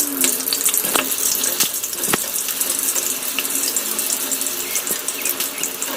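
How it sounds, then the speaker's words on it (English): Green chilies deep-fry in hot oil for batata vada with a continuous, close, loud sizzling hiss broken by scattered crackling pops, with no talking. "add green chilies to the hot oil, deep fry them briefly"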